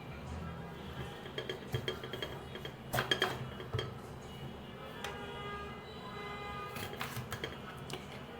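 Knife chopping capsicum pieces on a cutting board while preparing shashlik, a run of sharp, irregular taps and clacks, close and moderately loud, clustered in the middle with quieter scattered cuts after.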